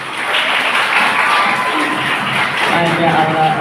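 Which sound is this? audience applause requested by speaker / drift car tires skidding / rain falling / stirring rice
audience applause requested by speaker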